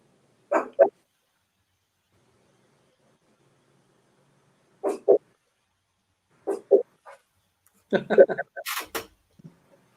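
A dog barks in short bursts of one or two barks separated by pauses, fairly close and loud, ending in a flurry of barks and yips.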